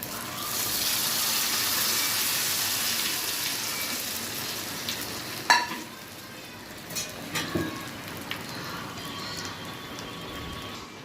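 Hot oil sizzles and crackles steadily as tempering spices fry until lightly browned, with a few sharp pops and clinks over the hiss, gradually settling quieter.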